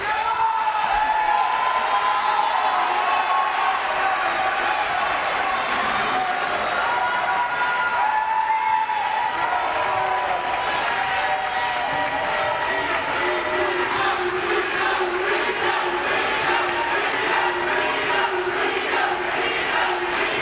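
A studio audience at a Rhode Island gubernatorial debate applauds the candidates in a performing arts center, sustained clapping blended with crowd voices and some cheering, steady at a moderate level throughout.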